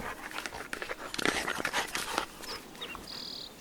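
A pet dog pants and snuffles close by in a quiet indoor room, a short burst of breathy, rhythmic sounds with a faint high chirp near the end.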